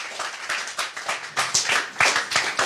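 A church congregation claps rhythmically in quick, steady bursts, close and moderately loud, with no talking over it.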